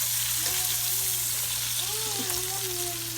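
Seafood frying in a pan and being flipped over, a steady dense sizzle filling the background throughout, with faint tonal hums from the room layered on top.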